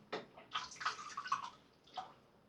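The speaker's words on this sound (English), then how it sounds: "Just going to put a little water on the blade." Water splashes in short bursts onto a Dovo Bergischer Lowe straight razor blade, a few quick, close trickles and drips separated by brief quiet gaps.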